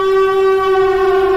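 A steady, loud siren tone from the Siren Head video game holds one pitch with strong harmonics, droning continuously without rising or falling.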